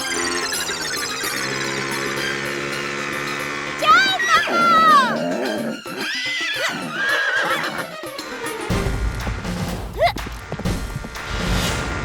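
A horse in an animated comedy series whinnies loudly amid clip-clopping hooves, with voices and background music layered throughout.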